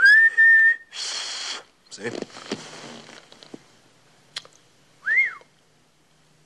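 A person whistles on an inward breath, producing short high tones: one steady note at the start and a brief rising-falling chirp near the end. Scuffling and rustling fill the gap between, with a brief spoken word.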